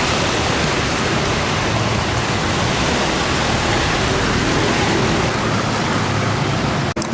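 Steady rain pours down at a takoyaki street food stall by a field in Pondok Gede, a dense, even hiss that stays loud and unbroken for the whole stretch, with no voices.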